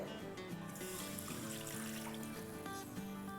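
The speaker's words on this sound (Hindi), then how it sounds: "अब हम अपने सेम पैन में 1 कप पानी डालते हैं" A cup of water poured into a saucepan gives a continuous splashing trickle, mostly covered by steady background music with sustained tones throughout.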